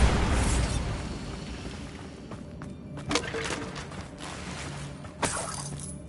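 The Bombarda blast spell in Hogwarts Legacy lands with a loud opening explosion and a shattering crash, then debris rattles down and two sharper pops follow near the middle and the end.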